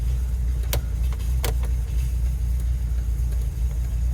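A 1987 VW Syncro bus with a 2.1 four-cylinder engine idles with a steady low rumble, close and even, with a couple of faint clicks from the hazard lights.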